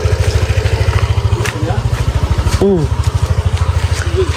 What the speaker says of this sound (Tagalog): Medyo nahirapan na si Francis ipaano yung motor.